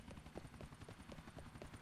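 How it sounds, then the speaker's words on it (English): A helicopter in Grand Theft Auto thrums with a steady, continuous rotor chop throughout, fairly full and close, with no talk over it. "Let's see if the chopper is chasing me."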